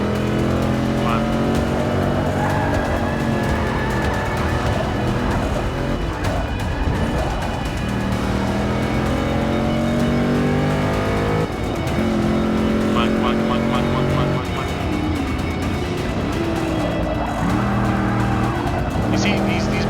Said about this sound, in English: these muscle cars are not really made for making such tight turns